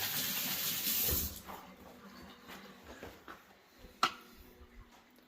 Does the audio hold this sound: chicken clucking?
no